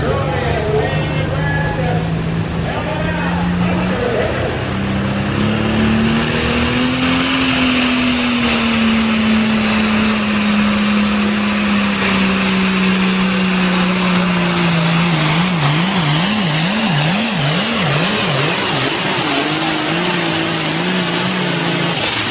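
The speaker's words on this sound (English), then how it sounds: "we're going to show Eric's run here on his Super Farm tractor" Super Farm class tractor making a pulling run, a loud sustained engine roar that climbs in pitch, holds steady, then wavers and bounces near the end, with crowd or commentary noise underneath throughout.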